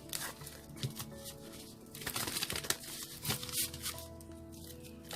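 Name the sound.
shuffling tarot cards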